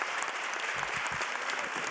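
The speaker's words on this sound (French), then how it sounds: "Formidable, cette salle qui applaudit." A conference-hall audience applauds steadily, a dense wash of many hands clapping throughout at moderate level, with no speech over it.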